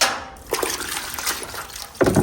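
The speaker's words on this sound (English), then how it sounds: "So we're just going to douse it down again" Water is poured and splashed onto a solid wood furniture piece that has shrunk and warped, giving a close, uneven trickling and sloshing with a louder pour starting near the end.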